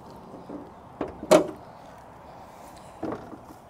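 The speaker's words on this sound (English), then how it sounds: "We're gonna go ahead and pop the hood." A few short clunks and a sharp latch pop, then a softer thud, as the hood of a Dodge Challenger R/T Shaker with a 5.7-liter engine is released and opened, close by with no talk.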